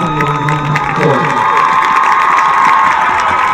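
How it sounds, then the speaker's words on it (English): Crowd cheering and clapping for the 2021 homecoming court at a college football game, a loud stadium roar of shouts and applause with a public address voice and tonal sound near the start. "Please give a round of applause to the 2021 homecoming court."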